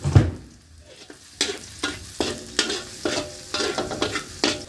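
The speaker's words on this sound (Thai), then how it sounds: "ลงไปเลยครับใส่กระเทียมลงไป ให้หอมนะครับหอมเลยนะครับ ก็น้ำมันลงไปนี่นะครับ" Garlic frying in hot oil in a pan, stirred with a utensil: a steady sizzle broken by repeated sharp scraping strokes at a fairly regular rhythm, close and clear with no talking.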